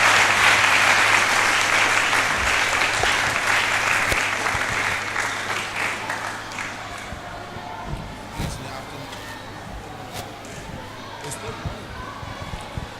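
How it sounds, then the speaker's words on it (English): A crowd applauds, loud at first and then slowly tapering into scattered claps and light murmuring. "Please give him a hand of applause."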